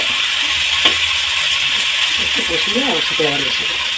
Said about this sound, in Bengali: এক সাইড করে আলুগুলো আমি রেখে দিয়ে এবার মশলাগুলো কষিয়ে নেব